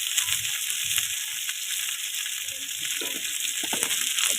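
Small fried pond shrimp sizzling in hot oil in a pan, added to a spicy small-fish curry with chili; steady close frying hiss with occasional stirring clicks, no talk.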